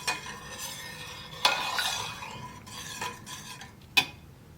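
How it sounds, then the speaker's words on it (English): A utensil stirs a mixture in a kitchen pot kept below boiling, making soft close scraping swirls with a few sharper metallic clinks against the pot's side, steady and unaccompanied by voices. "Just keep stirring."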